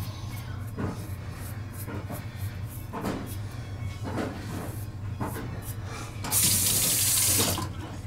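Hot tap water runs steadily into a sink while a multi-blade razor is rinsed, with brief tapping knocks at intervals and a louder, brighter gush of water near the end.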